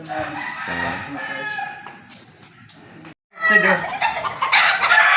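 Chickens and roosters of a backyard gamefowl breeder cluck and crow nearby, a rooster's drawn-out crow rising loud near the end, with people talking over the birds.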